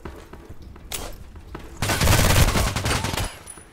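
Kriss Vector submachine gun fire in the shooter game Contract Wars: sparse single shots early on, then a loud, dense sustained burst of rapid automatic fire for the back half.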